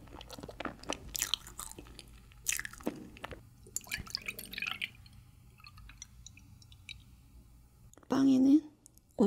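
Close-miked chewing of a strawberry milk mochi roll, soft squishy bites and moist smacking clicks in an irregular rhythm, with a brief burst of voice near the end.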